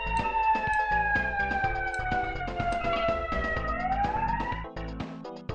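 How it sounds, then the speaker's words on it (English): Wailing police-style sirens from the Shadowrun SNES video game rise and fall in synthesized tones, layered over a busy chiptune soundtrack for about five seconds. "good old sirens."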